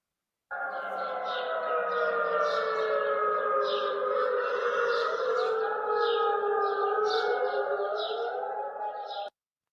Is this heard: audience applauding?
no